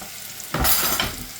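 Mushrooms browning in a hot pan as a mince substitute, a soft background hiss swelling into a bright, loud sizzle as they are stirred, close by, with no talk.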